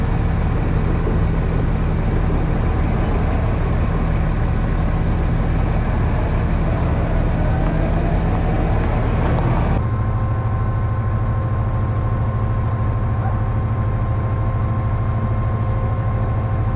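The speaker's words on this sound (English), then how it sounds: "I'm just gonna hook the tractor onto here and pull this out" A tractor engine runs steadily while pulling forage equipment out, a continuous loud low rumble with a slight shift in tone partway through, and no talking.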